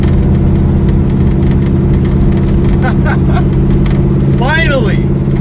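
An LS3-swapped 1969 Camaro drives down a bumpy road, its engine giving a steady loud low drone with road rumble throughout, and a voice speaks briefly near the end.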